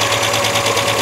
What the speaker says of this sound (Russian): В принципе, и двигатель работает относительно ровно.